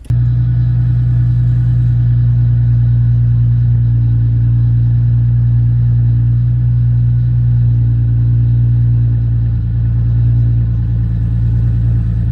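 A Chevrolet Camaro with a new aftermarket exhaust and a Ford Mustang with a single exit exhaust, engines idling close by in a steady, loud, deep rumble that holds even for about twelve seconds with no voices.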